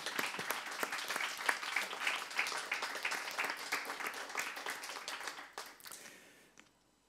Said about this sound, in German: Lassen Sie uns unsere kleine Rotunde hier bitte mit einem großen Applaus begrüßen.